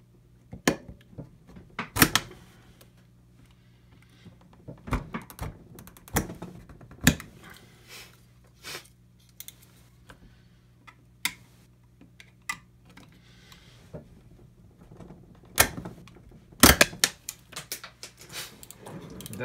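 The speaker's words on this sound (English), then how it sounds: "And now I'm gonna try and cut this." Scattered sharp clicks and snaps from cutting a part on a Game Gear handheld console during a backlight repair, close and intermittent over a low steady hum, some louder cracks among soft ticks, with no talking.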